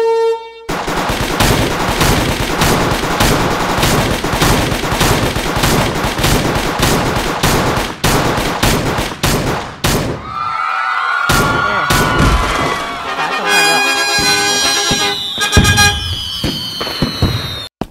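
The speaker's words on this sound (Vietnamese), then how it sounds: "Wow, súng máy, súng máy." Rapid bursts of machine gun fire in a mobile shooting game come loud and dense, then give way to scattered shots and game effects.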